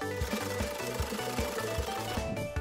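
Rhythmic mechanical stitching from a sewing machine in the Poppy Playtime Chapter 4 video game, with a steady chugging pulse under constant background music and no talk.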